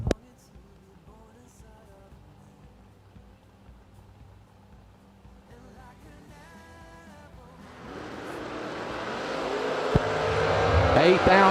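A 1998 Chevy S10 and a 1968 Camaro launch in a drag race, engine noise building steadily from a low idle into a loud, rising roar over the last few seconds.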